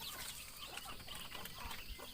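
Young chicks in a small wooden chick brooding pen give a steady, busy stream of soft clucks and cheeps at close range, with no talking over them.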